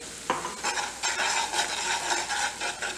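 Schezwan sauce stirred in a pan, a continuous bright sizzle with repeated scraping strokes of a spoon, close and fairly steady, no voices.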